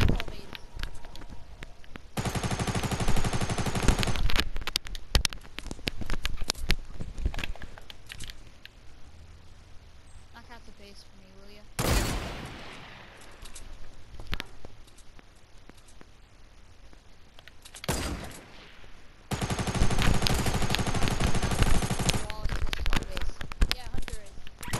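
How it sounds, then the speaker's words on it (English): Gunfire in Fortnite comes in dense, loud bursts of rapid shots, with two long sustained volleys and scattered single cracks in between over a busy game soundscape. "oh, we're taking fire"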